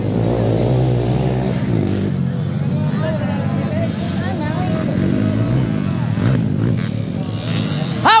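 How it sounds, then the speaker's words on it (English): Enduro motocross motorcycle engines revving at a local fiesta race, loud and continuous over crowd babble, with a sharp rev rising at the very end. "Silang motor ni kawan Barba"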